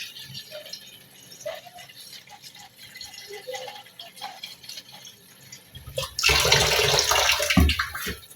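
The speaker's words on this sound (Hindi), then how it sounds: "और अब इसके यखनी के लिए इसमें पानी डाल दूंगी।" Water poured into a pan of vegetable pulao masala with capsicum and green chilli, quiet drips and small sizzles first, then a loud, close, gushing pour that runs for about two seconds.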